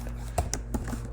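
Keys clack on a computer keyboard as code is typed, a few quick, close taps and clicks over a low steady hum, with no talking.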